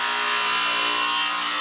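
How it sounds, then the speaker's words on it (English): A Hammer Union Grinder's spinning disc grinds a damaged union nut, giving off a loud, steady high-pitched whine with an even motor drone that holds constant throughout, with no voices. "We'll go around twice for this and I'll show you how well it does."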